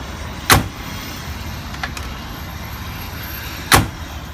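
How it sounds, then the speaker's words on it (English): Two heavy, solid slams of a 2015 Mercedes-Benz G550 door, a few seconds apart, each a sharp metallic thud with a faint latch click between them, close by and otherwise quiet. "Once you open the door and close it, you hear a nice metallic sound."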